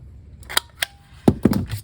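A handful of crisp snips and clicks as the inside corner of a paper pocket is rounded for an art journal folio, with two light cuts followed by a louder, fuller cluster of close, sharp cutting sounds.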